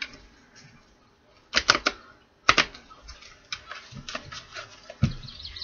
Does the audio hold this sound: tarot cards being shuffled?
yes